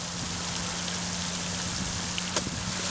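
Golf course sprinkler system spraying water outdoors, a steady broadband hiss like rain held constant throughout, with one brief sharper splash or tap near the end and no talking.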